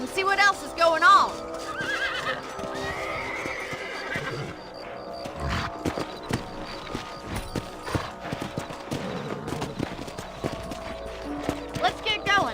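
Horses in the video game Red Dead Redemption clip-clop and neigh, with hooves beating a steady trotting rhythm close by and whinnies rising over game music and ambient sound.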